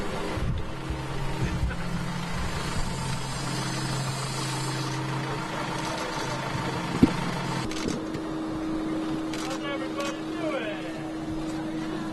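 A heavy diesel engine of an off-road dump truck idles with a steady low rumble throughout, with a sharp clank partway through and some background activity.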